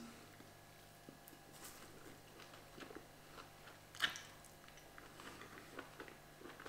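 Quiet, close chewing and biting of a meal of gnocchi, beef and cheese, with soft irregular mouth sounds and one sharper crunch midway.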